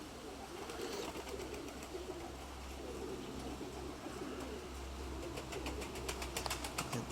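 Feather-footed pigeons outdoors, with a soft cooing and brief wing flaps over a steady low hum, faint at a distance, a few sharper clicks near the end.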